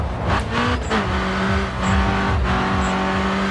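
A race car engine in GRID 2 revs hard and steadily, with a rising and falling whine through gear changes and a brief tire squeal, loud and continuous.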